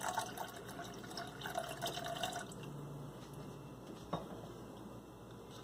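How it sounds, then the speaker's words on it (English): Water pours steadily into a pot of dal for pressure cooking, a continuous close splashing fill that gradually settles into a softer trickle. "Add water"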